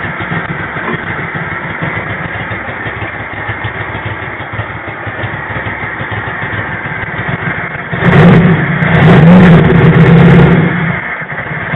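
Single-carburetor Honda GL1000 motorcycle engine idling steadily with a close, even rumble. Around the eighth second it rises to a louder high idle, then settles back.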